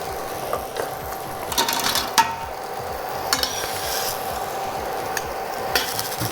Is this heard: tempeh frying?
yes